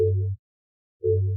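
Output of a spectral gate plugin with its high-end knob fully off, leaving only the fundamentals: two short, dull tonal bursts separated by about half a second of silence.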